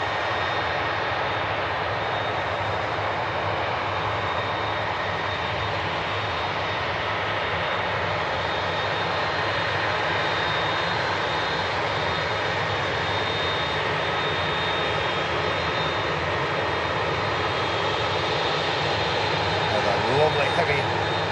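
A heavy passenger aircraft arrives and taxis at the runway viewing park, its jet engines giving a steady, loud broadband roar that holds without a break from start to finish.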